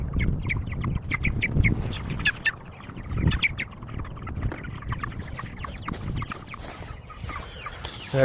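Chickens clucking inside a repaired chicken tractor: a flock of meat birds tall enough to slip out underneath, with a steady run of close, overlapping clucks and no talking.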